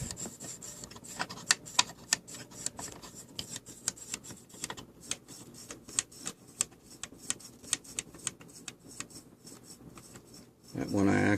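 Dusty potentiometers on a Yamaha YTA-95 guitar amp being worked back and forth, giving faint scratchy, rasping clicks in quick repeated bursts, close up, with a louder rustle at the end.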